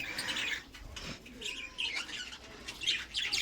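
Caged budgerigars, adults and young chicks, chirping in quiet bursts with soft wing flaps between calls, close and faint with no talking.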